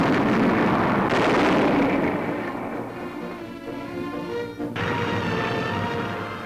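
Heavy 75-millimeter aircraft cannon firing from the air at a target, loud booming blasts with rumbling noise filling the clip and a sharp report near the end.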